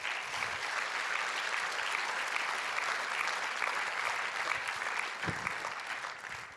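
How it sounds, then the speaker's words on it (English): An audience claps for the supporters of a World Vision event in a sustained, even round of applause lasting several seconds, many hands close together. Near the end it begins to taper off. "How about we just do one more round of applause for all of the supporters?"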